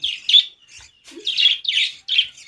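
Pet lovebirds in a cage chirp in quick, bright bursts, several close calls in a row with brief pauses, loud and near with no talking.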